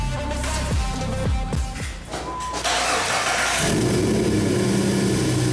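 Jeep engine after a head gasket replacement, a starter cranking in several quick rhythmic turns, then the engine catching, revving briefly and settling into a steady loud idle.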